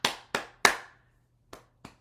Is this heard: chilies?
no